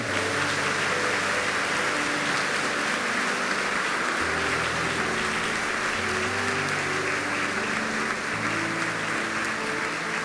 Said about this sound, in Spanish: Un aplauso a Cristo resucitado.